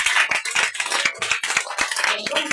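Members of a church congregation clap to acclaim the Lord, a quick irregular burst of close handclaps over a bright murmur of voices and cheering.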